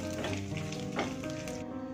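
Tempering spices (popu/tadka) sizzle in hot oil for a dal of sorrel leaves, a dense, continuous close-up frying hiss with a faint stirring sound and no speech.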